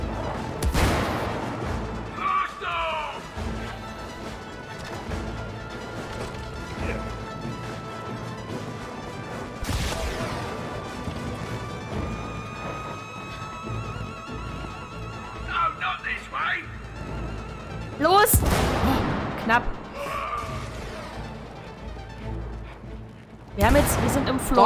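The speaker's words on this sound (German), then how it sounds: "Diese blöde Rakete einfach so explodiert." A rocket blows up in the co-op video game It Takes Two, sharp crashing blasts and booms breaking out amid game sounds, with players talking over the action throughout.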